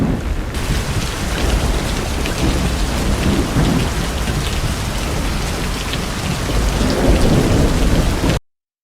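Heavy rain with thunder pours down in the Kulithalai and Iyermalai area, a loud, dense, continuous hiss of downpour with low rumbling thunder rolling underneath before it cuts off abruptly near the end.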